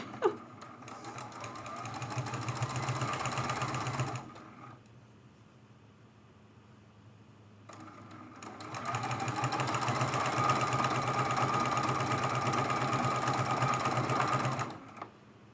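A sewing machine stitching quilt-as-you-go table runner strips runs in two long steady bursts with a quiet pause between, a close continuous whirring hum with no talking.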